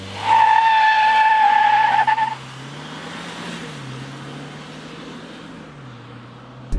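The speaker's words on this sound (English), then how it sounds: "build up the turbo boost, and rock it off. So here we go, building up the boost, and off we go. Whoa, smoking the tires." Jeep Wrangler JL 2.0 turbo launching on a race track, its tires loudly squealing and smoking for about two seconds, then a steady engine drone rising and falling in pitch as it pulls away.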